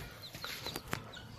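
Roosters and hens clucking near at hand, a few short soft calls scattered through the moment over a low background hum.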